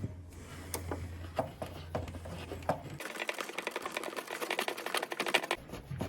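Door seal clamp screw being tightened on a washing machine, rapid whirring clicks of a powered screwdriver in bursts, with sharper close-up mechanical ratcheting in the second half.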